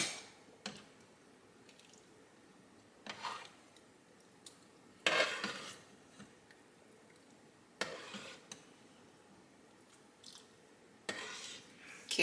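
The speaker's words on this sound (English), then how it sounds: "Stir that in." Milk is stirred into rice pudding with cinnamon sticks in a pot, heard as a few sparse spoon scrapes and knocks against the pot at irregular intervals, with soft wet sloshing and quiet gaps between.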